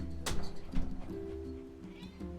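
Cat meowing in the video game Nier Replicant, a few short close mews in quick succession over a soft game background, with no voices.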